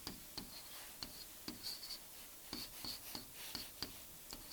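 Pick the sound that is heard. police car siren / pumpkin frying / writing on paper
writing on paper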